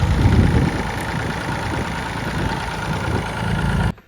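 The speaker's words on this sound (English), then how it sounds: "We've just taken it out the shed as you've just seen. So Hugh, how long have you had this tractor?" A farm tractor idles in Wales just after being driven out of a shed, a steady low engine rumble close by that cuts off abruptly at the end.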